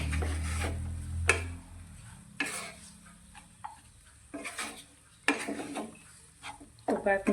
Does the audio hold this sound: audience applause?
no